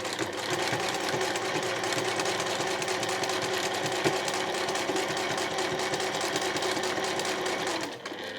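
Sewing machine stitching around the edge of a two-tone cotton shoulder bag, a loud close, steady rapid mechanical whir and needle chatter running without pause until it slows at the end.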